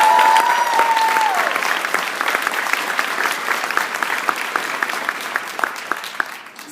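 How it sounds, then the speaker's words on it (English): A crowd applauding at the International Students for Liberty Conference, a dense and steady wash of clapping that starts strong and gradually thins and fades toward the end. "can we get another round of applause"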